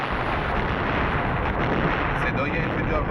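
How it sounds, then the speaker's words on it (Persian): Explosions at Mehrabad airport in Tehran, a dense, sustained roar of blasts and rumbling that fills the whole span, loud and continuous, with no clear separate bangs. "صدای انفجارهای متعددی که دقایقی قبل در فرودگاه مهرآباد روی داد"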